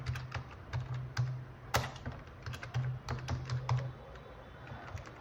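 Typing on a computer keyboard while entering text with a design program's text tool: quiet, irregular key clicks in quick bursts with short pauses, alone and close.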